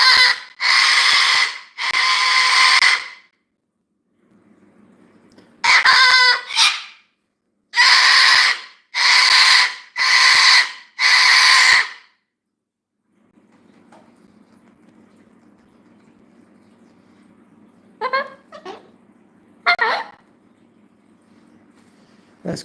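Loud, harsh bird screeches come in repeated bursts, some grouped in threes, with quieter stretches of low hum and a few shorter squawks near the end.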